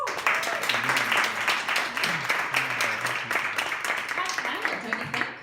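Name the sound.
audience applause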